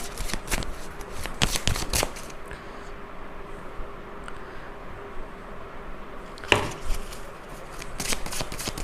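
Tarot cards being shuffled by hand, crisp riffling bursts near the start and again around the middle, with soft handling rustle in between and no talking.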